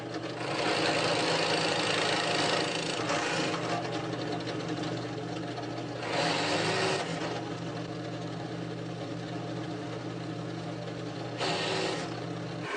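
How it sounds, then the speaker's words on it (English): A continuous motor hum with a steady grinding drone, as a drill press cuts wood for a carved wooden chain, swelling louder in a few bursts. "and I'll do that on the drill press."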